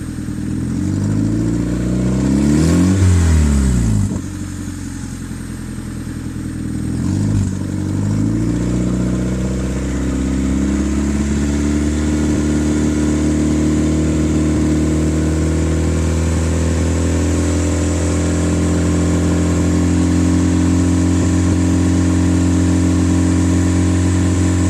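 A turbocharged D16 Honda Civic engine, sitting still and recorded up close, gives two sharp revs that rise and fall early on. It then settles into a steady, rumbling idle that lasts until the end.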